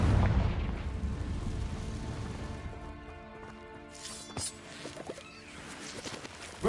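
A Confringo fire spell explodes in the Hogwarts Legacy video game, giving a loud booming blast that rumbles and fades over several seconds, with a few scattered crackles and pops afterward.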